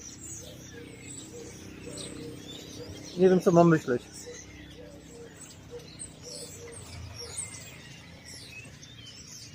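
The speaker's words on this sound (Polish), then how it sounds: "Co te ptaki tu kombinują?" Soft bird chirps and twitters come and go in the background in Biograd na Moru, Croatia, with a brief burst of nearby speech in the middle.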